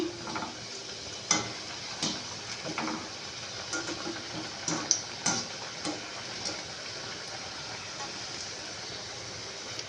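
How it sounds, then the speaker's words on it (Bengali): Cauliflower samosas deep-frying in oil and being turned over make a soft, continuous sizzle, broken by scattered pops and light clinks at irregular intervals. "এবার আমি এগুলোকে লাল লাল করে ভেজে নেব আমি এগুলোকে উল্টে দিচ্ছি"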